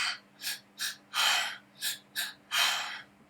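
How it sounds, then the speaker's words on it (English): Fast, deep rhythmic breathwork breathing, about eight quick audible inhales and exhales alternating in a steady rhythm, close and clear with no talking. "I do want to demonstrate like what the faster breathing looks and sounds like"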